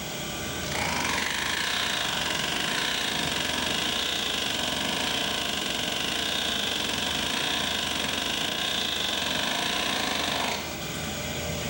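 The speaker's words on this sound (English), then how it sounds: "we're going through one universal joint operating at an angle, so we're going to have the output yoke speeding up and slowing down" A rotating drive shaft running through a single universal joint set at an operating angle, giving a steady mechanical whir with a faint cyclic pulse that starts abruptly, holds for about ten seconds up close, then stops.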